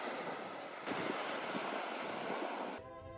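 Steady broadband wash of waves and wind at a beach, continuous and fairly loud, with gusty rumble against the microphone and no talking.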